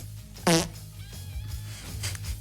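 A single short, loud fart sound effect bursts out near the start, followed by quieter background noise and faint chatter on a breakfast radio show.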